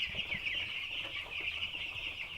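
Hens cluck and chatter continuously inside a coop, a dense, steady flock murmur with overlapping calls at moderate volume and no talking.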